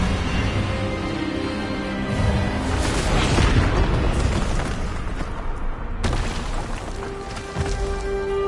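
Expelliarmus spell cast in Hogwarts Legacy, a loud sustained magical blast with booming, crackling roar building over several seconds, cutting off sharply before a quieter tonal hum.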